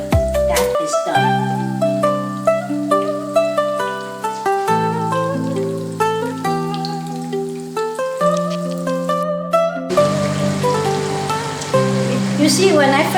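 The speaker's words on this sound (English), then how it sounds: "Now we fry until it's golden brown." Chicken deep-fries in hot oil until golden brown, a continuous bubbling crackle like rain that grows harsher near the end, under background music.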